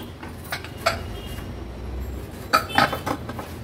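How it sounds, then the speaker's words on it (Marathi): A cooled pressure cooker lid is opened, giving a few sharp metallic clinks and knocks close by, with quiet pauses between them and no talking. "झाकण उघडून बघूया।"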